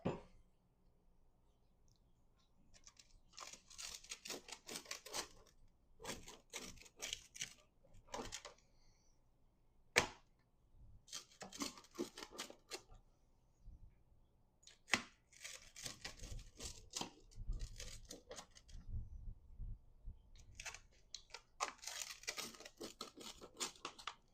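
A knife cuts through a crispy Detroit-style pizza with mozzarella in a series of faint crunching, tearing bursts separated by short quiet pauses.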